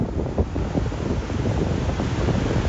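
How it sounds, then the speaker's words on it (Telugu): Big sea waves roll in at Colomb Beach in South Goa as night falls, a steady loud surf rumble mixed with heavy wind buffeting, with no voices. "వేవ్స్ కూడా చాలా పెద్దగా వస్తున్నాయి"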